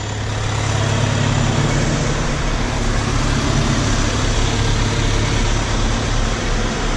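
A Case 90 tractor with 2800 engine hours idles close by in a field, a steady loud diesel drone with a low rumble that holds constant throughout.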